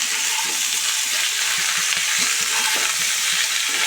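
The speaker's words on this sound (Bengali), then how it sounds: "এবার এটা ভালো করে নাড়ব।" Cauliflower, potato and paneer curry being stirred in a pan, with a steady loud sizzle and the soft scrape of the spoon through the mixture, continuous and close.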